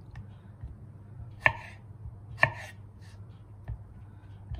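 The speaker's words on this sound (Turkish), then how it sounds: "Şimdi patatesini doğruyorum." A knife chops potatoes on a board in a few sharp, spaced taps over a quiet background.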